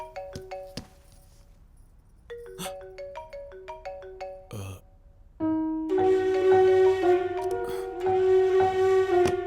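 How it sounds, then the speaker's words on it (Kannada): A mobile phone ringtone in a home plays a repeating chiming melody in short bursts, then swells into a louder, fuller musical ring that continues steadily to the end, close and clear with no talk over it. "ಫೋನ್ ರಿಂಗ್ ಆಗ್ತಾ ಇದೆ ನೋಡು"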